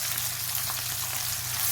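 Sliced garlic, four finely cut cloves, hitting browning onions in a pan for a chicken and cabbage curry, giving a steady, close, even sizzle and fry with no talk.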